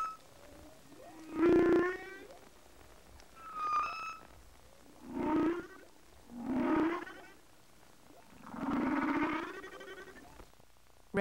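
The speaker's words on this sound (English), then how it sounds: "Humpback whale." Humpback whale calls come as a string of long, moaning and wavering cries, five or so separated by short pauses, some rising into higher whistling tones, heard alone against a quiet background.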